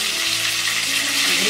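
Cumin seeds, asafoetida and curry leaves hit hot oil in a pan, making a loud, dense, continuous sizzling hiss close up, with no talk over it.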